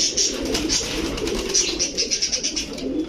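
Pigeons coo steadily throughout, a low soft bubbling murmur from several birds close by, with occasional higher bird calls and flutters over it; pigeons of Kaldam, Gorra, Chila, Giribaz and racer types.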